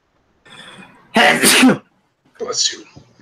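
A single sharp sneeze bursts out between softer breathy sounds, close and loud, followed by a brief voiced noise after it.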